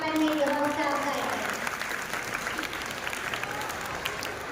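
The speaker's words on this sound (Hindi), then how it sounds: "एक मरतबा जोरदार तालियां बजाकर मेरी हौसला करें" Audience at a naat recitation clapping loudly, a steady broad patter of many hands that fades somewhat toward the end, with murmurs and a voice faintly audible underneath.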